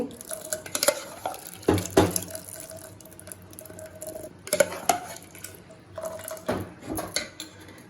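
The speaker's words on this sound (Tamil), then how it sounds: "இப்போ வந்து மூடியை திறக்கிறோம்" A metal lid clatters off a cooking pot of boiled pulses for a Tamil mochai kulambu, sounding as a few sharp clinks and knocks over a steady kitchen hum, with no talk.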